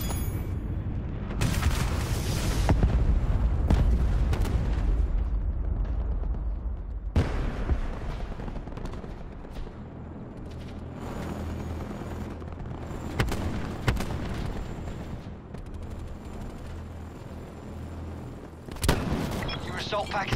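Heavy Hellstorm missile explosions in a video game match on a seaside map, booming low rumbles striking in bursts with a loud opening barrage, a sharp hit near seven seconds and another near the end, over continuous battle noise.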